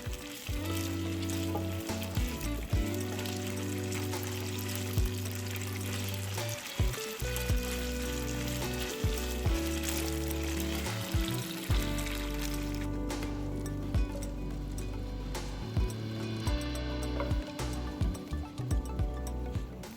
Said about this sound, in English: Spread the chicken in when the oil begins to warm but not hot.